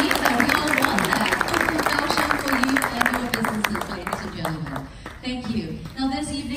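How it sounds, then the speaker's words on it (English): Sustained applause from a convention audience at a distributor gathering, a dense wash of clapping that fills the room, with a voice speaking over it throughout. "How about a round of applause?"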